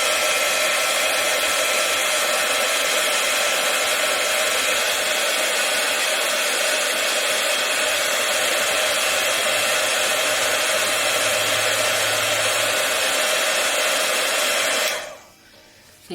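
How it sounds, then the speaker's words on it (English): A heat gun blows hot air onto a resin cup, a loud steady whooshing hiss close up that runs continuously before cutting off near the end. "so this is how you use the heat gun"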